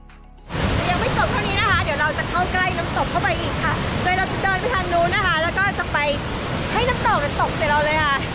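Tad Khamued waterfall on the Bolaven Plateau in southern Laos roars as a loud, steady wash of rushing water close by, starting abruptly and continuing throughout while people talk over it.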